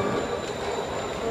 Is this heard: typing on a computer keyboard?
no